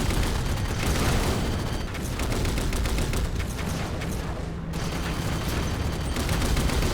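Dense, continuous gunfire from the Halo 4 campaign, a steady roar of rapid shots and booms filling all seven seconds with no pause and no talk.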